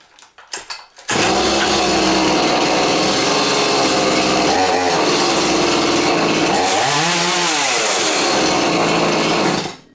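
A Holzfforma petrol chainsaw catches after a few quick starter pulls, then roars at a loud, steady idle for several seconds, with a brief throttle rise midway before cutting off.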